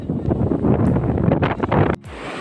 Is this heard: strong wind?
yes